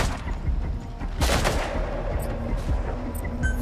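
Gunfire in Metal Gear Solid V: The Phantom Pain, dense overlapping shots and bursts in a loud, steady barrage with several sharper cracks standing out over continuous battle noise.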